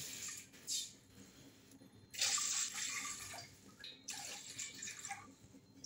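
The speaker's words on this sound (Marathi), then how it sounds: "तर 4 कप पाणी टाकणार आहे" Water pours and splashes into a pot of sago in a few separate bursts, close and fairly soft, with brief pauses between pours.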